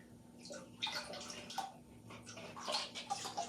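White pottery glaze, folk art white, pours over a ceramic bowl with a soft wet splashing and trickling, faint and close, with a steady low hum behind it.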